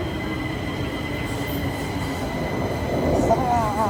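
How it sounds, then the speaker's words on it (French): Stockholm metro train riding, a steady low rumble of the carriage with a faint high whine and a thin squeal of wheels rising toward the end, heard from inside the car with faint voices underneath. "Je prends le métro suédois pour la première fois."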